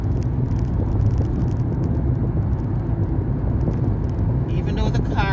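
Car cruising along a road at a steady moderate speed, a constant low rumble and road roar from inside the cabin, with a voice speaking briefly at the end.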